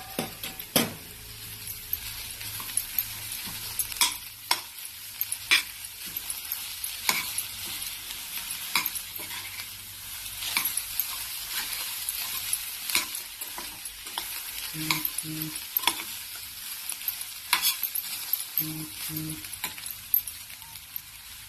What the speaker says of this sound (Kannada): ಕಡಲೆಬೇಳೆ, ಉದ್ದಿನಬೇಳೆ ಸ್ವಲ್ಪ ಫ್ರೈ ಆದಮೇಲೆ ಕೊನೆಯಲ್ಲಿ ಕೊತ್ತಂಬರಿ ಸೊಪ್ಪು ಹಾಕೊಂಡು ಸ್ವಲ್ಪ ಬಾಡಿಸ್ಕೊಳ್ಳೋಣ